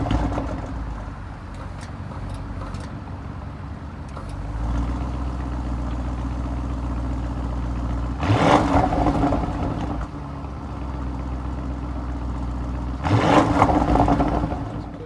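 A turbocharged 500-horsepower V8 in a 2021 Audi SQ7 with quattro all-wheel drive idles with a steady low rumble, then blips twice into loud, short revs that fall back to idle.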